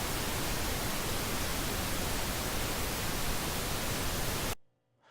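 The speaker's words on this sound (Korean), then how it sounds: "자, 핑크 노이즈가 만들어졌는데요." Pink noise generated in Sound Forge Pro 11: a loud, steady, full-range hiss that holds unchanged for about four and a half seconds, then cuts off abruptly into silence.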